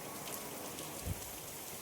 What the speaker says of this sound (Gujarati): અને વરસાદ જો અત્યારમાં ચાલુ થઈ ગયો આમ જો